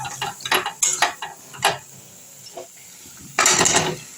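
Potatoes for Bengali alur dum tumble into a cooking pan, giving a run of close clattering knocks and scrapes that ends in a louder rattling burst.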